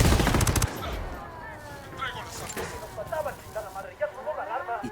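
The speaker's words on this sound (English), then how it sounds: "Opening fire." Gunfire in Tom Clancy's Ghost Recon Wildlands: a short, loud automatic burst at the start, then quieter rumbling and scattered impacts in the background.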